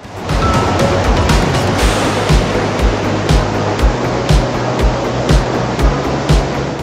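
Water rushes loudly and continuously at the Matuniya waterfall in Kaprada, Gujarat, a dense roaring wash that swells slightly in places, with no speech.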